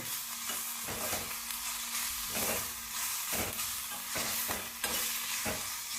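Chopped onions with a pinch of salt fry and sizzle in a pan for a North Karnataka capsicum palya, with a steady close hiss broken by repeated stirring scrapes and taps, and no talk.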